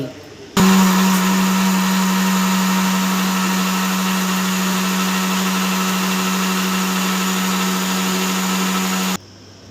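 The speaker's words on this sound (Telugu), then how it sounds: "బాగా ఒక రెండు నిమిషాల పాటు మిక్సీని ఆపకుండా మిక్స్ చేసుకోండి" A mixer grinder blending mango lassi runs steadily at high speed, a loud continuous whirring drone that starts abruptly and cuts off near the end.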